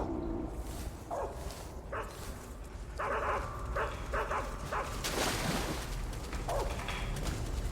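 Guard dogs in the stealth video game Metal Gear Solid 3 bark and yip in short scattered bursts over a low, rumbling game backdrop, fairly faint.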